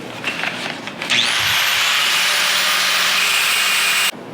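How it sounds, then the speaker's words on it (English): A quick tack weld on metal lets out an abrupt, loud, crackling hiss that starts suddenly and holds steady for about three seconds before cutting off sharply, close by and with no talk. "just a quick tack weld essentially"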